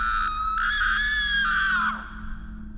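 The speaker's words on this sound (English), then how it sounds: "she screamed." A woman's high scream rings out loud and sustained for about two seconds, then breaks off, set over a low steady hum as an effect in an animated horror story about an intruder at night.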